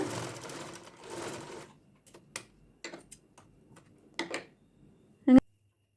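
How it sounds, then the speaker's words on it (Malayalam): A sewing machine stitches the shoulder seam of a cotton half petticoat, one longer run followed by short, separate bursts of needle clatter and pauses, close and clear. "ഇതുപോലെ കെട്ടിട്ടതിന് ശേഷം സ്റ്റിച്ച് ചെയ്ത് കൊടുക്കുക എന്നിട്ട് വീണ്ടും അതിന് മുകളിലൂടെ ഒന്നുകൂടെ സ്റ്റിച്ച് ചെയ്ത് കൊടുക്കുക"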